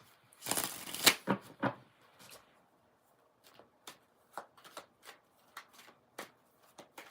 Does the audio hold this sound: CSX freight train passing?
no